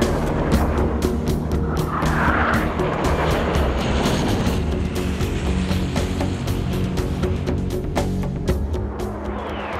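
Aircraft passing at an air show, with jetliners, fast jets and helicopters on display, a steady broadband roar that holds loud and close for the whole stretch with no talk over it.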